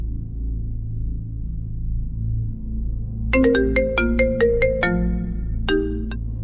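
A phone ringtone plays a bright, plinking sequence of quick electronic tones in two bursts over a low, steady background hum, with no one speaking.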